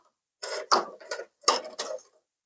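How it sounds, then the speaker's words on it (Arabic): Plastic air conditioner filters are slid out of a split indoor unit by hand in two bursts of scraping and rattling, close and fairly loud, with quiet pauses between. "بنفتح التكييف وبعد كده بنفك الفلاتر برفق"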